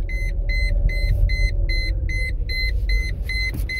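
Warning chime from the instrument cluster of a 1999 Mercedes C230 with a dash fault, sounding as a steady run of evenly spaced electronic beeps, about three per second, over a low idling engine rumble.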